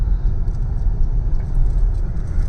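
Steady low road rumble of dense city traffic with cars moving slowly near a flyover under construction in Greater Noida, a continuous close drone with no talk.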